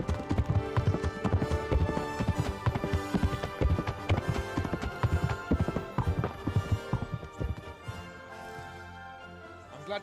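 Rapid, loud clip-clop of many galloping horse hooves in the video game Kingdom Come: Deliverance pounds steadily throughout, layered over a dense musical backdrop.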